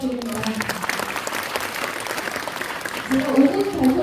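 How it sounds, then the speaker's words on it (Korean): An audience at a Korean community redevelopment briefing gives a politician a round of applause, dense steady clapping near the microphone, with a voice speaking over it toward the end. "다시 한번 큰 박수 부탁드립니다."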